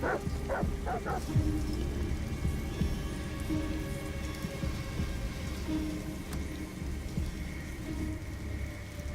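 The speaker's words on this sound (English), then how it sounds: "Goddamn dog." A dog barks in a short burst of yips early on in the Detroit: Become Human video game, set against steady rain on a surface.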